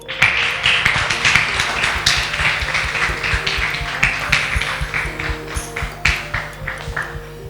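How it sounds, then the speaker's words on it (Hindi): A crowd at a school dance talent show claps to welcome the jury members, a steady rhythmic patter of many hands over faint background music. "तो करते हैं जोरदार तालियों से स्वागत हमारी जूरी मेंबर्स का।"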